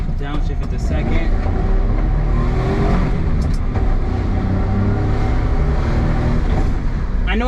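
A Suzuki Jimny drives along with a loud, close engine drone that rises and falls as it downshifts, mixed with road and wind noise, while someone speaks over it.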